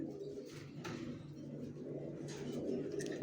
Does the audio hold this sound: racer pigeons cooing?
yes